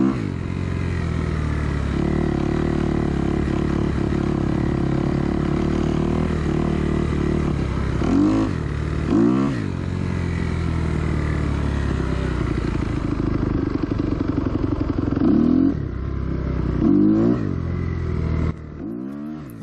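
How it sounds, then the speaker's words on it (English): Kawasaki KX250 motocross dirt bike engine, loud and close, idling with a steady rasp, then jumping through several sharp throttle blips that rise and fall quickly in pitch. The revving bursts come in pairs, with no talking. "Watch how my bike jumps forward whenever I blip the throttle."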